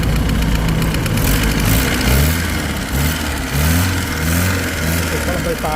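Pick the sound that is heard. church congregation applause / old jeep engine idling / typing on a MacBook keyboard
old jeep engine idling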